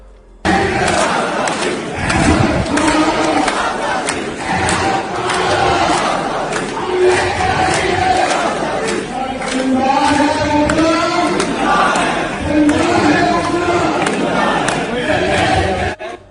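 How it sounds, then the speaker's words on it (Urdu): A large crowd at a lawyers' convention joined by Imran Khan chants political slogans in loud, rhythmic unison, with the chanting filling the whole stretch and swelling in waves. "یہ ذرا نعرے سنیے گا"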